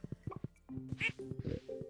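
Ducks in the farming game Stardew Valley quack in a short run of nasal, repeated calls, fairly close and clear, with soft game sounds behind.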